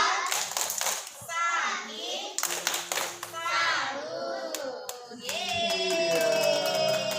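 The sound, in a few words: children clapping a clap salute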